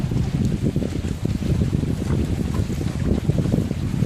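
A sailboat moving through open water in light wind of about ten knots, with a steady loud rush of wind and water close to the microphone and no voices.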